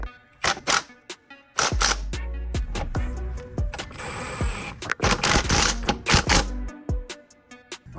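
Wrench and metal tool clatter while tightening the sway bar and lower control arm bolts on a 2014 Ford Escape, with sharp clicks and knocks in irregular bursts, close and fairly loud, no talk.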